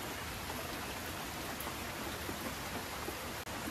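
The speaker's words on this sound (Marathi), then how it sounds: "भजी भाजताना मस्तपैकी पाऊस झाला" Rain falls steadily outdoors during a village cooking session, a soft, even hiss of drops that stays faint and unbroken with no voices.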